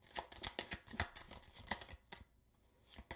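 A deck of tarot cards is shuffled close by, with quick papery riffles and flicks coming in clustered bursts, then a brief pause and one last soft snap, with no speech.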